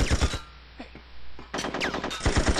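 Assault rifle fire in the video game Tomorrow Never Dies, rapid bursts of shots near and loud, coming in a few clusters separated by short pauses.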